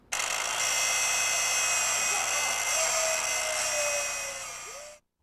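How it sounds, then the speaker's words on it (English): A Milwaukee 18-volt cordless 6.5-inch circular saw cuts through cheese, a loud, steady high-pitched whine that holds for about four seconds, then drops in pitch and dies away as the blade spins down. "The new Milwaukee 18-volt cordless circular saw. Now, let's go cut some cheese."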